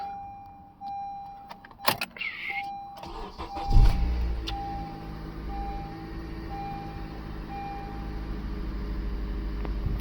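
A 2014 Honda Accord Sport with a 2.4 i-VTEC engine, freshly fitted with a new timing chain, starts up: a few clicks and a repeating dash chime, then a sharp crank that settles into a steady, close idle rumble.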